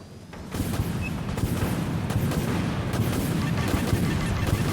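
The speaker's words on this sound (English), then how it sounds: "Autoguns fired up." Autoguns firing on a warship in the space combat game Dreadnought, starting suddenly and then running as a continuous loud, rumbling barrage of rapid fire that does not stop.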